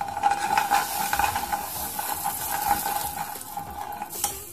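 A spoon stirs red chilli powder into shahi paneer curry in a pan, with soft scraping and clinking over a steady sizzle of frying, close and moderately loud, no talking.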